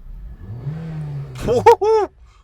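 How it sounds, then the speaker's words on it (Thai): The engine of a black Honda Civic FD rises and falls in a smooth run, while a voice speaks over it up close and briefly drowns it out near the end. "รอบเครื่องยนต์นิ่งมากนะครับ"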